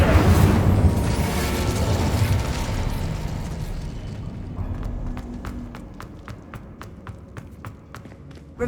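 Incendio fire spell cast in Hogwarts Legacy, a loud rushing, booming burst of flame that slowly fades, followed by a string of sharp, evenly spaced clicks or pops.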